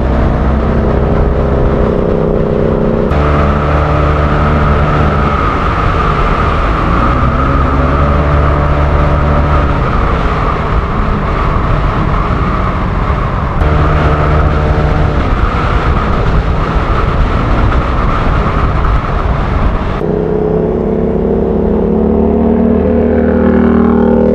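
Road traffic streams past riders on motorcycles, with a continuous loud engine roar and heavy wind rumble whose tone shifts as vehicles go by.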